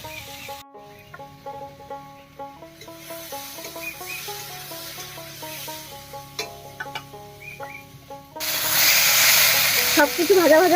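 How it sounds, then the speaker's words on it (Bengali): Vegetables frying in a pan for a Bengali dry fish and dhenki greens dish: a soft sizzle sits under background music, then swells into a loud, steady crackling hiss for the last couple of seconds. "সবজিটা ভাজা ভাজা হতে থাক"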